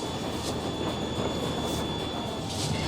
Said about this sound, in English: now we get to run onto the president's train